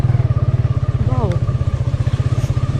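A motorcycle engine idles on a rural road, a loud, close, rapid rhythmic putter holding steady for several seconds, with a voice speaking briefly over it.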